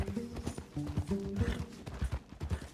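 A horse's hooves clip-clop in a steady walking rhythm in the video game Red Dead Redemption 2, close and clear over a soft background bed.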